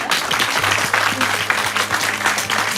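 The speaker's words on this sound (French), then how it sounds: "Les gens applaudissent" An audience claps after a live reptile presentation at Les Eaux de la Flèche, a dense, steady burst of applause from a small crowd throughout.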